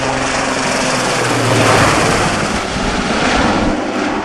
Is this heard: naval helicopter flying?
yes